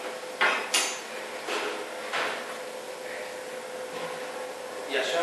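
Artichokes being cut and handled in a home kitchen, set aside in lemon water: a few sharp knocks and clacks of knife and board at an uneven pace, close by, with faint background noise.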